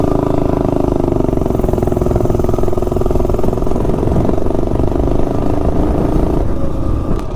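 A go-kart with a Tillotson 212 engine fitted with a small-valve, 14cc chamber head accelerates from 0 to 30, its loud, steady engine drone close by and sustained throughout.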